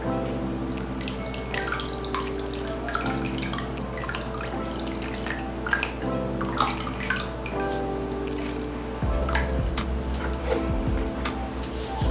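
Liquid shampoo bar soap mixture trickles and drips steadily into a mold for several seconds, close up, with soft splashes and a continuous low hum underneath.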